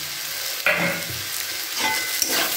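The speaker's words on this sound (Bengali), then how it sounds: "এটা দিয়ে আবার খুব ভালো করে নাড়াচাড়া করে নিচ্ছি" Red amaranth greens with lentil dumplings and a pinch of sugar being stirred in a pan, with scraping strokes over a steady close sizzle and no voices.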